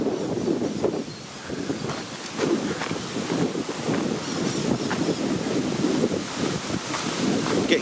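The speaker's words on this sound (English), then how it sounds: "Getting quite windy" Wind buffets an outdoor microphone in a steady low rumbling roar with gusty surges, continuous and fairly loud, with no clear voices over it.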